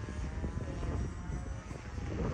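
A fixed-wing FPV UAV flies a loop in manual mode, its propeller engine a steady, continuous drone that stays loud and close throughout with slight swells as it turns.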